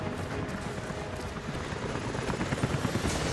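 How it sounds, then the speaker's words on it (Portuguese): Steady rotor roar of a helicopter in Rise of the Tomb Raider, dense and continuous throughout with a faint rhythmic chop growing slightly louder near the end. "helicópteros indo em sua direção"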